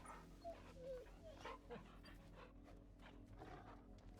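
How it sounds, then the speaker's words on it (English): A dog in the Final Fantasy 16 video game pants softly and steadily while being petted, a faint continuous breathy sound over a low in-game ambient hum. "I pet the doggy."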